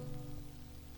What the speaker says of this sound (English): We got another day of rain, looks like